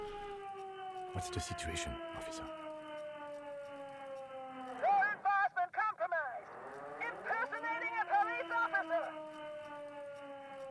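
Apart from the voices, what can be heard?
siren in the video game Disco Elysium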